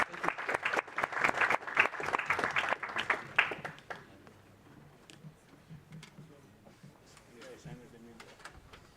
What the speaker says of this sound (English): So please give a big round of applause for them